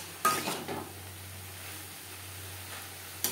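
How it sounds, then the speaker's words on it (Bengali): Cabbage with spices stirred in a pan, a couple of scraping utensil strokes against the cookware over a steady low sizzle and hum, fairly quiet and close. "মশলার সাথে বাঁধাকপি বেশ ভালো করে মিক্সড করে দেব।"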